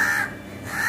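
A young crow chick with newly grown wings gives a single harsh caw that fades in the middle and then swells again. It sounds close and fairly loud, with no other noise.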